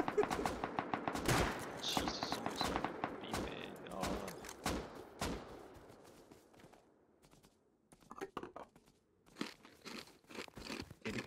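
Gunfire in the survival game Rust cracks out in sharp bursts and rapid volleys, loud and close, thinning to scattered shots before another flurry near the end, with a voice talking between them.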